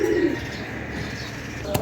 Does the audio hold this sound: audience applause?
no